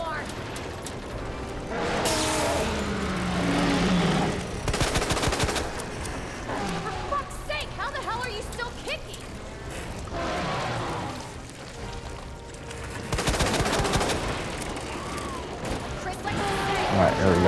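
Sustained gunfire aimed at a monster's eye in the Resident Evil 2 video game, with long rapid bursts that keep going, dense and loud across most of the stretch, surging and easing between volleys.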